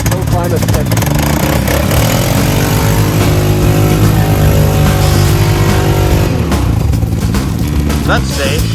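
A utility quad ATV's engine roars hard and loud as it climbs a steep hill, its note rising and falling with the throttle, close by and continuous, with voices in the background.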